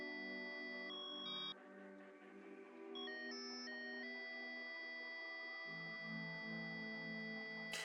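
A synthetic electronic ringtone from a phone in the video game Love Angel Syndrome, steady tonal chimes shifting in pitch and repeating across several seconds, clear and unaccompanied by speech.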